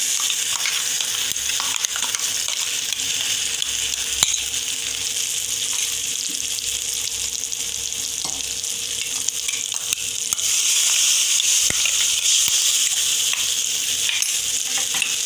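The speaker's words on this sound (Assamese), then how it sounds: "ল' টু মিডিয়াম ফ্লেমত আপুনি মছলাখিনি খুব সুন্দৰকৈ ভাজি ল'ব" Steady sizzling of spice paste frying in oil, occasional spoon clinks against the pan, growing a bit louder near the end, no talking.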